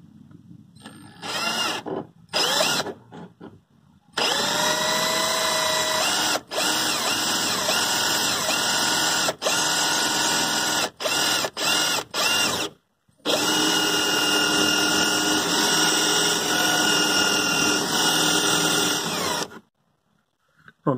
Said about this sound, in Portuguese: eu vou fazer um furo aqui com a furadeira